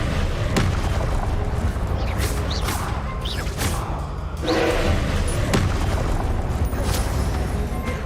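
Expelliarmus spell effect in the video game Hogwarts Legacy, with swooshing magical bursts and booming impacts layered over a dense, loud game soundscape of rumbling effects.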